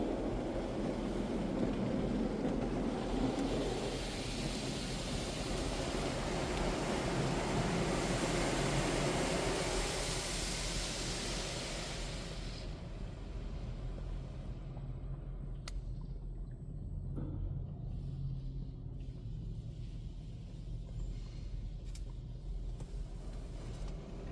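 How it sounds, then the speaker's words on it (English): An automatic Washworld Profile ST touchless car wash at a 76/Circle K sprays sealant onto a vehicle: a steady hissing spray and mechanical rumble that fades midway, leaving a quieter machine hum with a few faint clicks. "A sealant product is now being applied to your vehicle."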